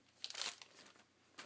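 Crepe paper is handled for a scrapbook layout, giving faint, close crinkling rustles in a few short bursts, with a quiet gap before a final crinkle.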